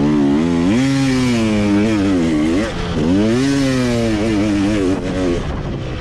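A dirt bike's engine revs and rises in pitch as it rides down a flat fire road during an off-road race, loud and close, with repeated throttle swells and brief dips between them.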